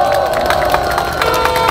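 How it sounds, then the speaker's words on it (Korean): Applause and cheering from a crowd at an outdoor Korean election campaign rally in Geumjeong-gu, a loud, dense wash of clapping and voices that stays steady throughout the brief moment. "박수 한번 다시 부탁드립니다."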